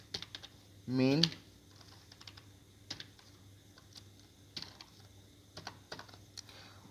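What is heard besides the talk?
typing C program code on a computer keyboard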